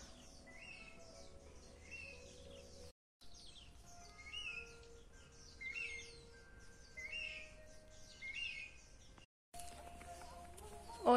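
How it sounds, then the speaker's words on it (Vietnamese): Birds chirping and calling in a forest along a trail, several faint, scattered tweets and short whistled phrases repeating over a low, steady background hum, with brief gaps of silence. "không khí trong lành, có tiếng chim kêu vượn hót nữa."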